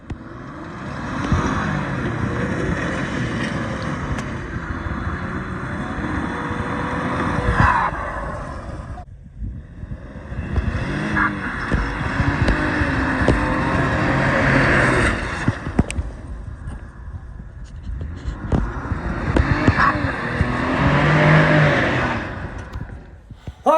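All-wheel-drive 2022 Ford Explorer ST doing donuts: a continuous engine roar with tire noise that surges and holds, briefly dipping before climbing again.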